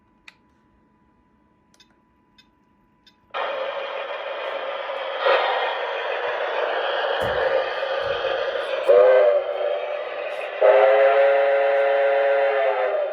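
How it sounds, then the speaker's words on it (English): After a near-silent stretch, an O scale model train's whistle blows in sustained blasts over a steady mechanical whir as it pulls uphill, with brief tonal shifts partway through. "There's our whistle."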